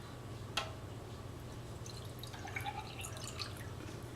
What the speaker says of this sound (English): if I pour it in the cup, it will take the shape of this cup.